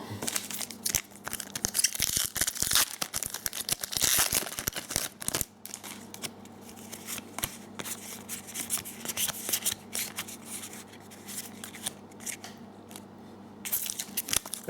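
Pokémon booster packs from the Roaring Skies Rayquaza vs Deoxys set are ripped open and the cards shuffled through, a dense run of crinkly foil tearing followed by quieter rustling and crackling flicks, close up with no talk.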